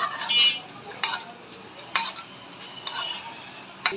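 A spoon scrapes and stirs a spice paste of turmeric, garlic paste and cumin in a frying pan, with a low sizzle and several short scraping strokes against the pan.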